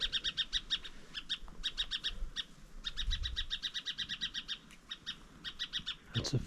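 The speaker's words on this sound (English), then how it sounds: "Little zebra finch there." Zebra finch calling outdoors near Alice Springs, rapid repeated bright chirps in quick bursts with brief gaps, close and clear over faint background hiss, no talk.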